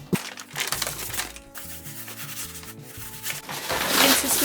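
Hands patting and rubbing paper onto a cardboard box to press out air, with close scuffing rubs and soft taps in uneven strokes and no talk.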